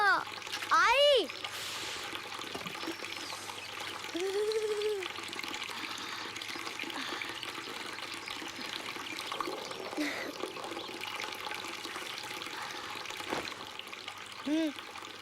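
Tap water running steadily in a home bathroom while a child brushes teeth before school, a soft continuous trickle with occasional splashes beneath voices of an adult and someone talking.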